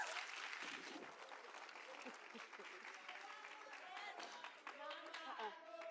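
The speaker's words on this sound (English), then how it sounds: "a round of applause to Nonkosi." An audience at a Women's Day event gives a round of applause, a dense wash of clapping with a voice speaking over it and rising toward the end.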